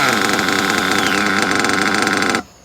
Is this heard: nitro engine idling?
yes